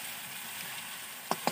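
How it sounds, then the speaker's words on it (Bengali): Potatoes fry in hot oil in a pan with a soft, steady sizzle, then two sharp utensil taps sound close together at the end. "এটিকে এবার একটু লাল লাল করে ভাজতে হবে"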